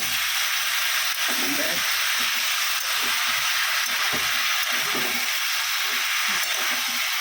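Onion with cumin powder and black pepper powder sizzles steadily in a pan, a continuous frying hiss under occasional stirring scrapes and faint talk.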